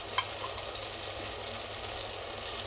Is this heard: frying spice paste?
yes